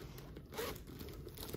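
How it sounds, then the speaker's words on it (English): Nylon zipper on a bubblegum pink handbag's wall pocket being pulled open or closed, a quick close rasping zip of about a second with a faint crinkle. "And you have a nylon zipper on this wall."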